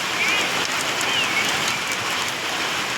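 Sudden unseasonal rain in Ansing, Washim, falling steadily and hard on surfaces, a dense continuous patter heard close with no speech.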